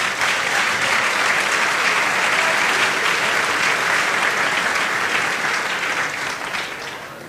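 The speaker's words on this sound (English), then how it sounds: "we can applaud a bit" Audience at a student business plan presentation final claps in sustained, dense applause that holds steady for several seconds and then begins to fade near the end.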